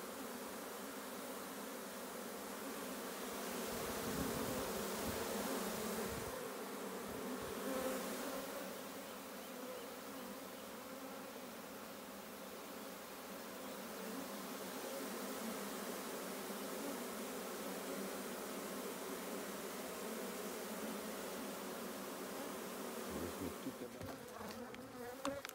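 Honey bees buzz steadily around strong early-spring hives, a dense, continuous drone close by with no talking.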